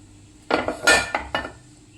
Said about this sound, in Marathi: आता या कुकरमध्ये आपण डबा ठेवलेला आहे